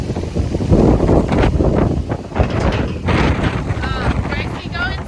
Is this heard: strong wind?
yes